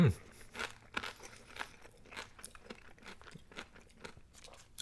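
A crispy Burger King taco is crunched and chewed up close, with a series of irregular crisp bites and mouth crunches, quiet overall, and a voice speaking briefly over it.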